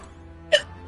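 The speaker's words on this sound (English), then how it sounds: "Hiccups." A single short hiccup from a character in the game Metaphor: ReFantazio, sharp and close against a quiet background hum.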